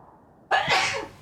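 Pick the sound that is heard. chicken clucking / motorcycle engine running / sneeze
sneeze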